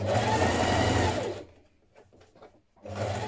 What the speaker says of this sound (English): I'm going to stitch it in place